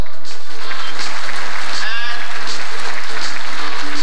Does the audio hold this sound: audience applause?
yes